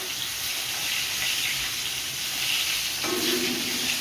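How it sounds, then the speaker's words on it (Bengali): A fish head fries in hot oil in a pan, giving a steady, fairly loud hiss with no talking. "মাছের মাথা ভেজে নিচ্ছি"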